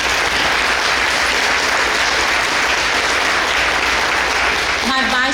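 Dense, loud audience applause fills a breakfast event hall continuously, a steady wash of many hands clapping, with a voice starting briefly at the very end.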